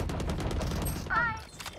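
Odin machine gun fire in Valorant, a dense rapid burst of shots filling most of the stretch, mixed with game effects and a faint voice.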